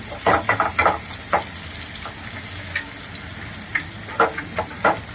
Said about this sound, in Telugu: ఉల్లిపాయ వేసుకుందాం స్మాల్ సైజుగా కట్ చేసుకొని ఉల్లిపాయలు వేయించుకున్నాం